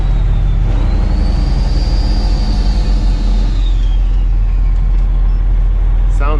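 A Detroit-engined truck runs loud and close, a steady heavy diesel rumble that rises through a gear shift, with a faint whine above it.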